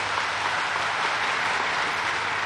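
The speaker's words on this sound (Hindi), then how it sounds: "अरे जोर से ताली बजाओ" A crowd at a political rally in West Bengal applauds loudly, a dense, unbroken wash of clapping heard on its own for a couple of seconds.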